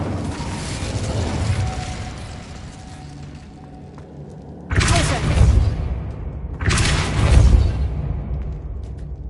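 An Incendio fire spell blasts twice in a Harry Potter video game, each a loud, booming burst that fades out over a couple of seconds, following a rumbling stretch of game ambience.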